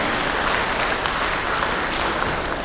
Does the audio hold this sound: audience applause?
yes